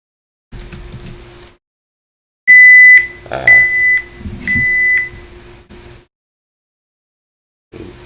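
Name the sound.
alarm going off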